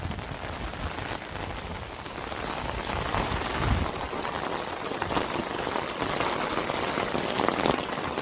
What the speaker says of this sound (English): It's actually kind of like a fine rain.